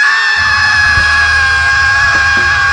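A person imitates a terrified scream, a sustained high-pitched shriek held loud and steady for nearly three seconds over a low background rumble, with no words spoken.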